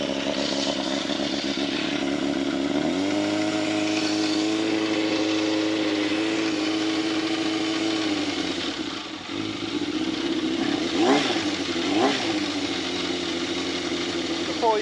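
A Yamaha FZR 600 motorcycle engine, newly de-restricted and on full choke, idles steadily before revving up and settling, then gives two sharp throttle blips near the end, loud and close.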